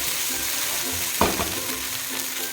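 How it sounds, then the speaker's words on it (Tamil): Soft, steady sizzling and frying of garlic idli upma roasting in a pan over low heat, with a brief scrape of stirring partway through, close and low in volume. "இப்போ அடுப்பை நல்லா ஸ்லோவில் வச்சு நல்லா ரோஸ்ட் பண்ணிக்கலாம்"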